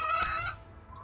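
Hens and a rooster clucking in the video game Rimworld, a short burst of loud fowl calls that tails off quickly, with a couple of faint high chirps at the end.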